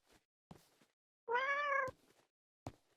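A cat in a video game lets out one clear, close meow amid a few soft clicks and thumps in an otherwise quiet scene.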